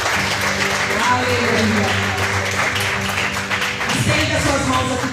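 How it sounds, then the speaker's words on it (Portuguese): A church congregation applauds during a morning worship service, steady clapping filling the room while a voice speaks over it. "Dê uma salva de palmas ao Senhor."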